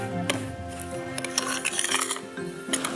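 Kinetic sand and cornstarch being stirred together in a pot, with irregular scraping and clinking of a utensil against the container, close and fairly loud.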